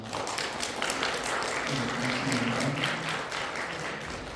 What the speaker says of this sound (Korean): 가운데 앉아 계시는데 박수로 좀 환영하겠습니다.